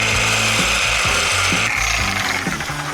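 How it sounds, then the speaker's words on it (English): A Sawzall reciprocating saw with a worn-out blade grinds through material in a fast, rhythmic rasp, each stroke pulsing regularly. The sound is loud and close, alone and continuous throughout. "I think I need a Sawzall, but I think my blade is about wiped out"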